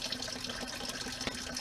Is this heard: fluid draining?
yes